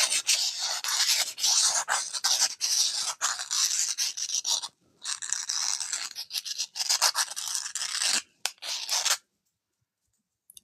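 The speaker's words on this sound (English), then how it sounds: "I'm just trying to get a little sanding done." Sanding by hand, a dry scratchy rubbing in long bursts with brief pauses, fairly close and steady, stopping abruptly near the end into silence.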